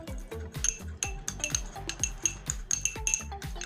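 A spoon clinks and scrapes against a bowl while a Colgate toothpaste and lemon face pack is stirred, with repeated light metallic taps and scrapes in an uneven rhythm, close by and without voices.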